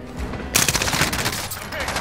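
Rapid gunfire in Call of Duty: Modern Warfare erupts suddenly after a brief lull, a loud close burst of shots with a voice faintly under it.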